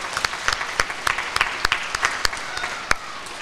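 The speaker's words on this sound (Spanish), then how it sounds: "Un aplauso." A small audience at a primary school author visit gives a brief, thin round of applause. Individual sharp claps stand out irregularly against a faint background.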